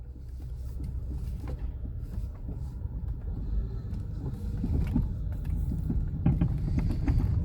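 A 1996 Nissan Maxima rolls through an apartment complex, with low road rumble and tire noise, scattered clicks and bumps, and a faint steady engine hum throughout.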